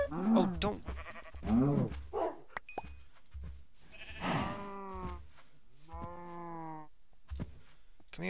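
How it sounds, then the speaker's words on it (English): Cow in the Minecraft video game lowing several times in drawn-out, wavering calls, mixed with other livestock-like bleats and brief game noises. "Come here, cow. Come here."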